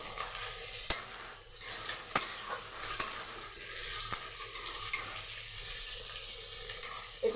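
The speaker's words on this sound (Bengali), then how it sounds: "আমার পেঁয়াজটা প্রায় ভাজা ভাজা হয়ে গেছে" Chopped onions sizzle steadily in a pan for a chicken curry with ground spices, while a spatula stirs and scrapes against the pan with sharp clicks about once a second. The cooking is close and there is no talking.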